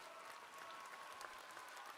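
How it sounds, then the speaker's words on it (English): Applause on a call-in tabletop game show, a faint, steady patter of clapping through the whole short stretch. "There's the applause."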